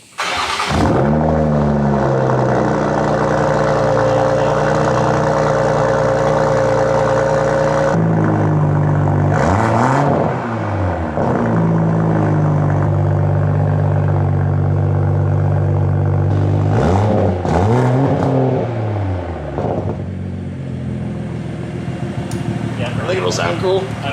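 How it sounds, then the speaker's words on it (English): A Toyota Supra with a custom HKS carbon titanium exhaust cranks and fires up, then idles with a throaty exhaust drone, revving in several sharp rising blips before settling again. "we just want to hear it start. So we're gonna say screw it and start it."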